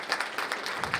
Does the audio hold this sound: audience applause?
yes